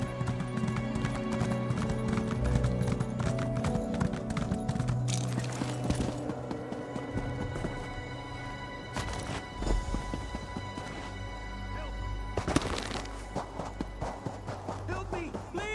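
A horse gallops in the Ys Origin video game, a rapid, rhythmic clip-clop of hooves running steadily up close with a brief whinny, under game music and occasional voices.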